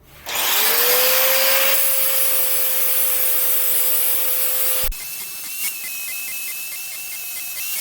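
An electric sander with an 80 grit abrasive grinding steel train rail for an anvil, a loud steady whine and rasp that holds for about five seconds, then changes pitch and continues close up.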